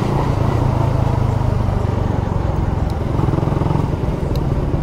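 A Suzuki Raider 150 Fi motorcycle engine idles nearby with a steady, loud, slightly rattly putter that holds an even rhythm throughout.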